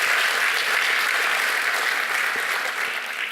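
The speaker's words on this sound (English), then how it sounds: "So let's give an applause." A lecture audience applauds at the annual Kieve Distinguished Lecture with Dolores Huerta, the thick, continuous clapping holding strong and easing slightly near the end.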